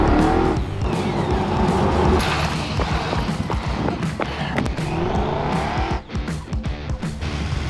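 A trophy truck with a big block Chrysler 400 bored and stroked to 522, making about 1,000 horsepower, revs loudly close by, with rising and falling engine roar and rapid surges over a rough outdoor background.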